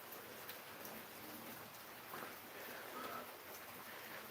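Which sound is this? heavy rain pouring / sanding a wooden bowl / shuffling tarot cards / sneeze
heavy rain pouring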